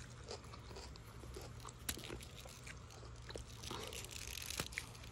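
Raw sweet snow pea pods picked from a home garden being bitten and chewed up close, giving moist, irregular crunches with sharper bites near the two- and four-and-a-half-second marks and no talking.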